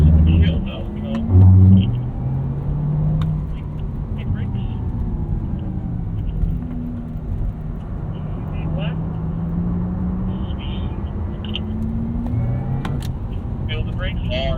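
A 2023 Porsche Taycan Turbo electric car drives a track at the Porsche Experience Center Los Angeles, giving a low, steady rumble of tires and drivetrain with rising and falling tones, while someone talks over it.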